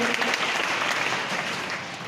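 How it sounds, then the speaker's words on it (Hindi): Loud, sustained audience applause with dense clapping from a crowd at a gathering, continuous throughout without a break. "चलिए उनके लिए जोरदार ताली होना चाहिए।"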